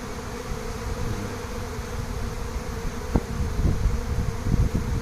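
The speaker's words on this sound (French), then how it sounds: "Vous êtes vraiment au cœur de l'essaim là, de l'essaimage là" A honeybee swarm clusters on a branch at an apiary in Santeny, giving a close, dense, continuous buzzing hum with a few soft low knocks near the end.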